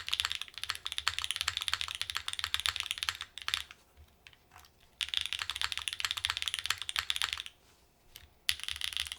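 Custom HIBIKI mechanical keyboard fitted with Obscura switches and a flex-cut PC plate, typed on in close, steady bursts of crisp clacks, with two short pauses between runs of keystrokes.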